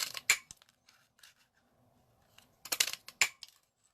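Scissors snip through paper for a handmade card, giving a few short, close, crisp cuts in two clusters separated by near-silence.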